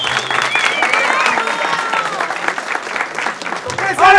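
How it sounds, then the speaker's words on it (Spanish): A concert audience at a show applauds and cheers in a dense, continuous wash of clapping, with excited voices shouting over it and a burst of louder crowd noise at the end. "¡Aplausos!"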